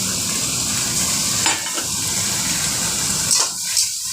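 Mustard paste added to hot oil with greens and green chillies for a hilsa curry hisses loudly and steadily up close, with a couple of brief scraping stirs.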